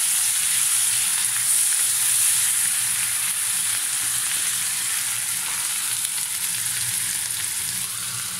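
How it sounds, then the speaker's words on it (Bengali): Onions frying in oil for an Italian lasagna, a steady, close, loud sizzle with dense crackle that holds evenly throughout, with no talking. "আমার পেঁয়াজগুলি একটু বাদামি কালার হয়ে গেছে।"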